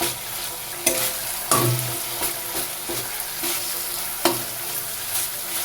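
Ground mustard and cumin paste dropped into hot oil in a pan, a steady close sizzle with occasional sharper pops and stirring scrapes, no voices.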